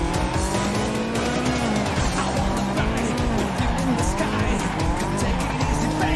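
Video game car drifting with tires squealing continuously over a revving engine and sliding skid noise, loud and sustained throughout.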